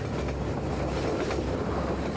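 A train in Half-Life 2 gives a steady rolling rumble with a faint rattling clatter throughout, fairly close and even in loudness.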